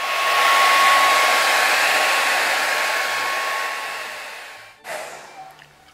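A hair dryer blows steadily and loudly on a watercolor wash for nearly five seconds, then cuts off, followed by a few faint clicks and small handling sounds.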